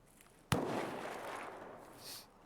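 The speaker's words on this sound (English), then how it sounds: "I can hear gunfire, and it is close." A single sharp gunshot in the video game Escape From Tarkov, fairly close, followed by a long rolling echo that fades slowly, with no speech.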